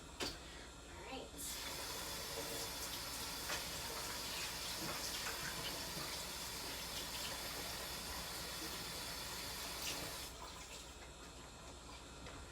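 A tap runs steadily as someone washes their hands in a kitchen sink. A constant close rush of water fills about nine seconds and then stops, with faint background noise before and after.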